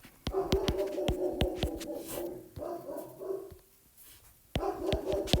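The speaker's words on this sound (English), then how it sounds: "as you hear my dog in the background" A dog barks repeatedly in loud, sharp bursts with whimpering tones between, pausing briefly before barking resumes near the end.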